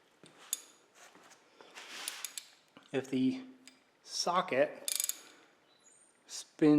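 A ratchet socket clicking on a lawn mower deck wheel bolt, quick metallic ratcheting bursts with clinks of metal, close and moderately loud, arriving in short runs separated by pauses.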